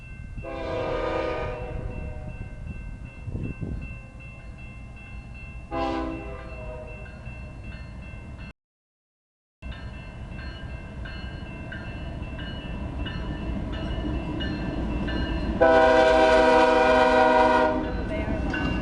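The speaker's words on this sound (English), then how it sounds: "Freight train." Freight train passing an Orange Avenue railroad crossing in Corcoran, California: several loud horn blasts over a steady rumble of rolling cars, with a long final horn blast near the end and no speech.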